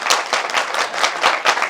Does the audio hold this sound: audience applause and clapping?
yes